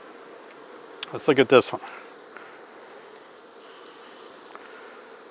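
Honeybees in an open beehive give off a steady, close buzzing hum, while a voice briefly speaks over it near the start.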